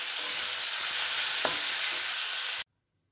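Chicken cooks in a pan with only a little oil, giving a close, loud, steady sizzling hiss that holds evenly for over two seconds and then cuts off abruptly, with no talking.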